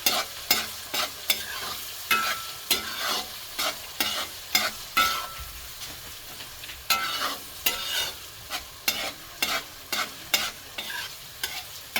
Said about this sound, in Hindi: अब हम इसको थोड़ा सा भूनेंगे